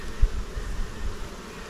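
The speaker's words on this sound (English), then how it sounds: "Quite a few bees in there." Honey bees buzz inside an open hive at an apiary, a steady low drone close by with a few louder thumps near the start and no talk.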